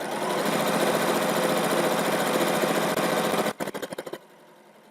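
A domestic sewing machine chain-piecing strips of quilt block fabric, the motor whirring steadily and loudly for several seconds before slowing into a few separate stitch pulses and stopping.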